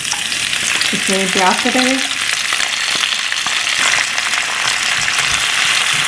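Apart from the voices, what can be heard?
masala frying and sizzling in a pan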